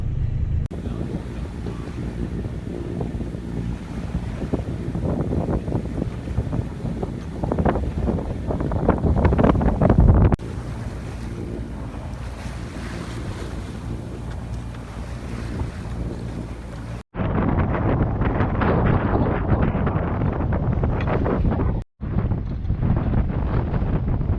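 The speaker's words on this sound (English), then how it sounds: "we are motoring out of Santa Elena" A sailboat motors out of Santa Elena at sea before dawn, a steady low engine drone under heavy wind buffeting on the microphone, with the water and wind noise continuous throughout.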